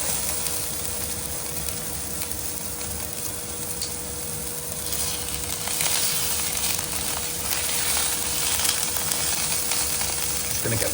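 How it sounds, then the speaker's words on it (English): Steak seasoned with salt and pepper searing in an air fryer, giving a steady, loud broadband sizzle that runs unbroken throughout, swelling slightly midway, with no talking. "So you can hear it sizzling."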